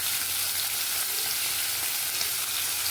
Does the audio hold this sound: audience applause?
no